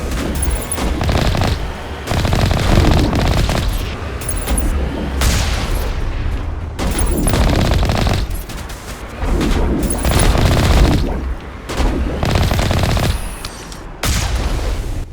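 Heavy gunfire and booming explosions from a Mass Effect battle against many enemies, loud and continuous, with bursts of automatic fire and repeated blasts filling the whole stretch, no voices on top.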